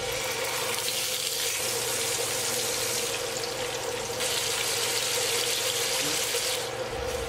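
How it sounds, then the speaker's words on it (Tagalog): A bangus (milkfish) steak marinated in calamansi, soy sauce and black pepper is pan-seared, giving a steady, close, loud hiss of sizzling that continues unbroken throughout. "Then, pan-sear na natin yung bangus."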